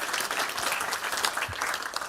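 Audience applause at a manufacturing summit, a dense and steady wash of many hands clapping that runs close and fairly loud for the whole two seconds, with no voices over it.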